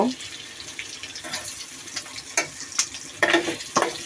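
Sliced eggs or vegetables frying in a pan in a home kitchen, a soft continuous sizzle with scraping stir strokes and a few louder clatters toward the end, no talk.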